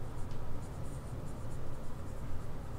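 Steady scratching of writing on a board as a forward difference table is set out in a lecture, continuous over a loud, even hiss of background noise.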